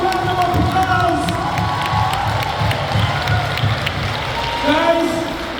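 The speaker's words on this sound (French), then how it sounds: "Give them a round of applause." An audience at a cheerleading competition in Quebec applauds and cheers steadily throughout, a dense wash of clapping and shouting under an announcer's amplified voice.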